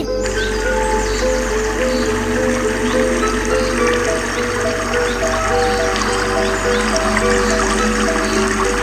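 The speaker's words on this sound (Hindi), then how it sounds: "ये देखिए आबशार का पानी जो है वो कैसे गिर रहा है" Waterfall in the Peak District, a steady, dense rush of falling water filling the scene continuously and loudly, with faint tonal hum underneath and no talk.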